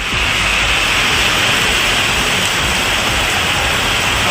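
Heavy rain pours steadily in Kanyakumari district, a dense, loud, unbroken hiss of water with no pauses and no voices.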